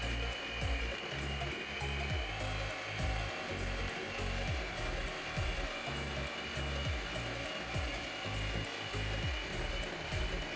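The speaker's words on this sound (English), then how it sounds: "Using a hand mixer or a whisker, whichever you have, whisk until it is well done." Electric hand mixer whisking pancake batter in a bowl, a steady whining motor with rhythmic pulsing thumps as the beaters work, close and continuous, without speech.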